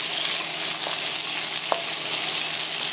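Chinese broccoli stems stir-frying with garlic over high heat give a loud, dense, steady sizzle with a couple of brief utensil clinks, heard close up and with no voices.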